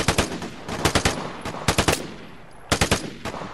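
Bursts of automatic gunfire in quick clusters of several shots, separated by brief pauses, fairly close and loud with no talking.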